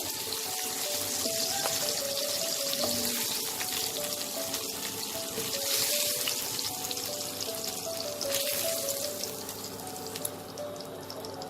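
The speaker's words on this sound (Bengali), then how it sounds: "মাছটা একটু ভাজা হলে আমি উল্টে দেবো।" Rohu fish frying in hot oil gives a steady, dense sizzle and crackle that runs throughout, moderately loud and close, with no talking over it.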